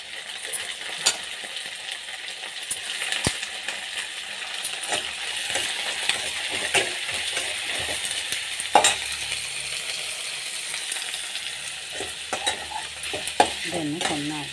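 Brinjal (eggplant) pieces sizzle and fry in a pan with onions for vangibath, stirred with a utensil that scrapes and taps now and then over a steady close hiss.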